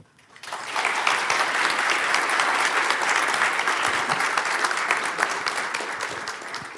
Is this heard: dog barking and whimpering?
no